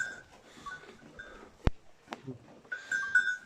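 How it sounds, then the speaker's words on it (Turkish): Sheep bleat at the start and end, with a couple of sharp knocks in between, fairly quiet and close by in a farm pen. "Koyunlara yanına geldim arkadaşlar."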